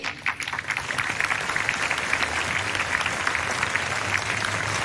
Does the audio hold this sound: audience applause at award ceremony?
yes